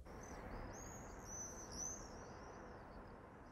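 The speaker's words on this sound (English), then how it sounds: "swifts, birds which are known for their screaming call" Swifts call at a nest site, thin high screaming trills sweeping overhead at moderate distance above a steady low background rumble.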